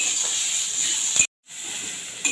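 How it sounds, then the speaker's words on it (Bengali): Potato, carrot and capsicum fry in a pan for khichuri, giving a steady close hiss that cuts out briefly midway and then resumes. "এবার আলুটা সবজি দিয়ে আমি ক্যাপসিকামটাকেও কিছুটা ভেজে নেব"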